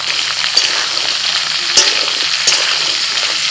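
Pumpkin, eggplant and ridge gourd fry in hot oil with potato and fresh stalks, a loud, steady sizzle broken by a few sharp stirring scrapes and spatters.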